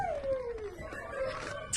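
A dog at an animal shelter gives a drawn-out, falling whimpering whine, close and fairly loud, sliding downward and then wavering on for nearly two seconds, with no talk over it.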